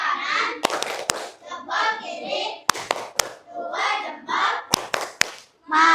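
Children in a fifth-grade classroom clap a patterned cheer, with sharp groups of two or three claps between bursts of children chanting along.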